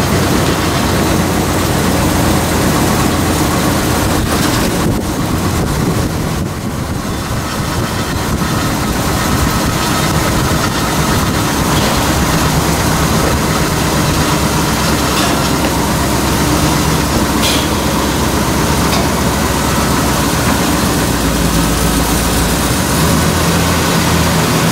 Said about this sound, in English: I'm gonna jack the front back up.